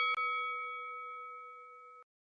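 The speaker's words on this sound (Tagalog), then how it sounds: "huwag kalimutan na pindutin ang notification bell" A bright notification bell dings once, a clean metallic ring with a sharp strike that sustains evenly for about two seconds before cutting off, alone with no other sound.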